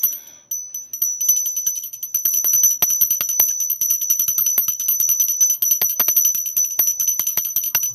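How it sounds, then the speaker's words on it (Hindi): A puja bell rings continuously during an aarti ceremony for Lord Vishnu, giving a bright, steady metallic tone with rapid, uneven clapper strikes. It is close and loud, with no talking. "इस तरह से घंटी बजाकर हम आरती करेंगे।"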